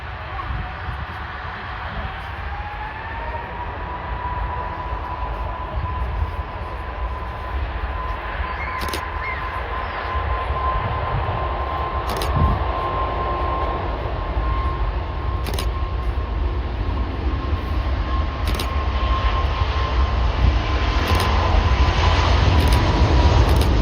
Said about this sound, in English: There we go, the second of our 3 Emirates Airbus A380s today.